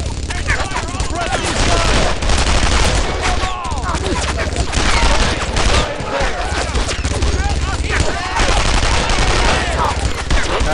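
Gunfire fills a World War II shooter, Brothers in Arms: Earned in Blood. Loud, dense rifle and machine-gun bursts overlap continuously with occasional heavier booms and hardly a pause across the whole stretch.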